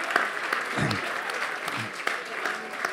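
An audience at a 100th-anniversary football club gathering for FC Buchs claps steadily for a few seconds. The applause is moderately loud and continuous, with individual claps standing out.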